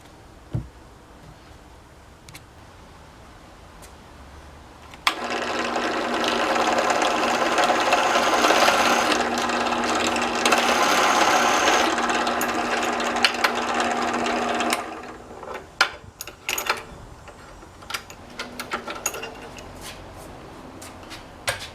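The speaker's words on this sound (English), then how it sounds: "just going to drill some small little indents in the shaft" A drill makes small indents in a metal steering shaft, a steady high whine lasting about ten seconds, then short bursts and scattered clicks and taps.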